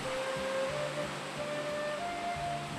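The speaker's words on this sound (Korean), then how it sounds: "저 멀리에서도 들릴 만큼 웅장한 물소리를 내며 떨어지는 삼부연 폭포" Rushing water of Sambuyeon waterfall in Gangwon Province, a steady broadband roar with a faint tonal music line laid over it, continuous and fairly loud.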